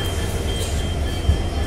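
The Padmavat Express train at Raebareli Junction gives off a loud, steady rumble and rolling hum of railcars close by, with a faint squeal of wheels on rails and one brief knock near the end.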